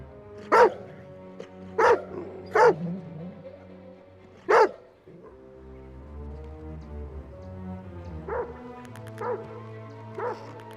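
A dog barks in loud, clear single barks, four spaced out early, then three softer ones later, heard alone against a quiet outdoor background.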